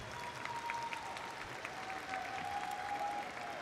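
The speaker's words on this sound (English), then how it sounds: "Students, please give your parents and teachers a big round of applause." Applause at the Southside High School 2021 graduation ceremony, steady crowd clapping for parents and teachers, fairly distant and even throughout, with a faint high tone running beneath it.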